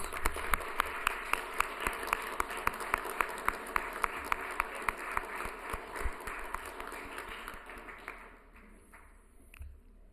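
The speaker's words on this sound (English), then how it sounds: "Let's do one more round of applause for Ms. Williams" Audience at a county board of commissioners meeting applauds a speaker with a modest, fairly even run of claps from a small crowd, thinning out and fading away near the end.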